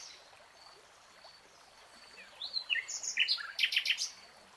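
Wild birds chirp and call in a melaleuca forest wetland, with bursts of bright, rapid calls building toward the end over a steady wash of trickling water and ambient hiss. No voices are heard.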